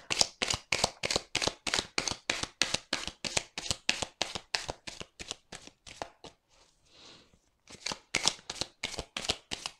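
Tarot cards are riffled and shuffled in a quick, even series of crisp bursts, close and clear, pausing briefly with a soft rustle before the rapid shuffling resumes.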